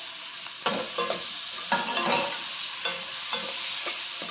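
Chopped tomatoes go into hot oil for a shark fish curry, bringing a steady frying hiss punctuated by several sharp stirring scrapes and clicks of the spoon against the pan, close and fairly loud.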